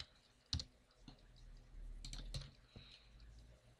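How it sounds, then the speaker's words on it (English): Faint typing on a computer keyboard, a few scattered key clicks and taps in a quiet room, with no talk. "And now we will type in the gateway."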